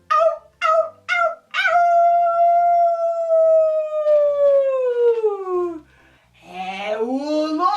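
A wolf gives a few short yips, then one long, loud howl that slowly falls in pitch, followed by a rising second howl.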